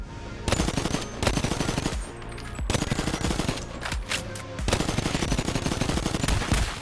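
Rapid automatic gunfire fills a BONELAB zombie-mod virtual reality game, loud close bursts of shots separated by brief pauses.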